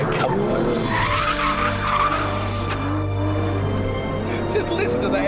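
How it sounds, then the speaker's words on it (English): An Aston Martin V12 Vantage is driven hard through corners, its V12 engine note loud and sustained with tyre squeal over it, and someone talks over the engine. "Just listen to the engine. It's just stonkingly good."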